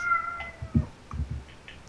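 A cat in a modded Minecraft game meows a few times, short close cries separated by brief pauses over quiet background.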